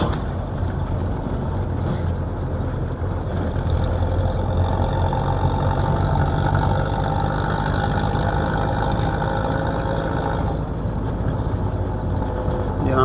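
Car engine running continuously while driving along a railway line in the Thar desert, a steady mid-to-low rumble with road noise, loud and close throughout.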